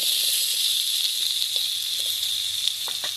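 Chunks of new potato frying in hot oil for a Bengali fish curry, a steady close hiss with faint crackles and a few soft stirring knocks throughout, no talk.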